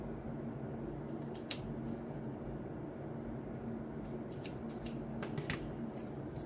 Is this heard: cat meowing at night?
no